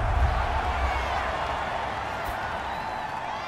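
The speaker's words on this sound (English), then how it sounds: "The crowd getting into it as we come up on a big 3rd down" A football stadium crowd at an NFL game between the Titans and Cowboys roars steadily ahead of a big third down, a dense continuous wash of cheering with no breaks.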